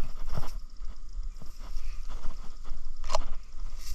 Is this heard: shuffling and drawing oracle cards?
no